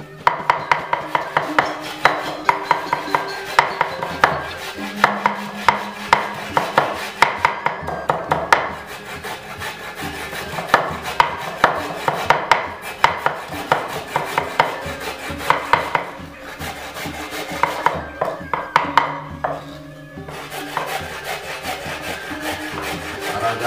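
Rapid knife chopping on a wooden board while ingredients are minced for Balinese wild boar lawar, with steady rhythmic thuds and scraping strokes that pause briefly and resume, close and fairly loud with no talk.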